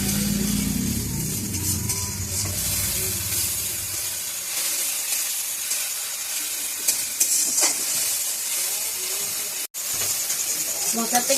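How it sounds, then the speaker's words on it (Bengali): Spices fry in oil for a fish roe curry, a continuous close hiss and sizzle with occasional stirring scrapes that lasts throughout, quieter toward the end. "মশলাগুলো কষাতে থাকবো যতক্ষণ অবধি তেল না ছাড়লে।"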